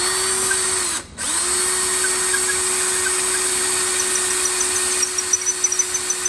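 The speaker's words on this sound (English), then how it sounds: "put this in a vise and use this bit to hand drill through the rest of it" Steady whine of a hand drill boring through a part of a rusted 150-year-old Swift Mill coffee grinder held in a vise, dipping briefly near the start, then ending in a few light clicks.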